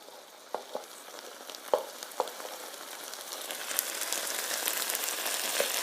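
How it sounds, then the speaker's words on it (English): Eggs and vegetables frying together in one pan for fried rice, a close, steady sizzle building in intensity with scattered clicks and scrapes of stirring, and no voices over it. "The sounds of cooking. It's a symphony."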